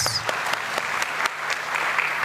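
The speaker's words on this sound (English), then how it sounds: "Another round of applause to Prof. Annie" Audience applause at an academic lecture on East African literature, a dense, even round of clapping from a room full of people that sustains throughout, with individual claps popping through the wash.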